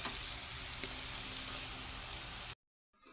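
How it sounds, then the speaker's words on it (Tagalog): Pork chops sizzle on a barbecue grill beside chicken, a dense, bright crackle that stays constant, then cuts out briefly and resumes near the end. "Yung pork chop pa lang yung ating naluluto."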